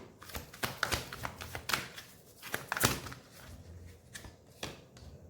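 Deck of oracle cards being shuffled by hand, a series of quick soft riffling and slapping bursts in an irregular rhythm, close and fairly quiet.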